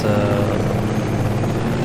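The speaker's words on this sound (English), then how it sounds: "it behaves just like any other modern FPS vehicle, helicopter" An M28 Hunter helicopter flies in a modern first-person shooter video game, its rotor and engine producing a steady, loud droning whir that stays constant throughout with no speech.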